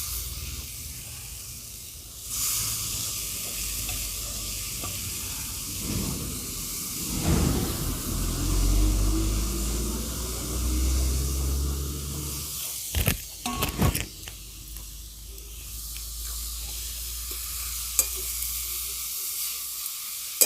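Grated papaya frying in oil and ghee in a pan, being stirred: a steady, close sizzle with scraping and clattering stirring strokes over it, no talk.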